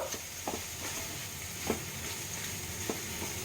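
Prawns fry with curry leaves in a pan, giving a steady low sizzle with a few soft scraping stirs at intervals, moderately close and without speech.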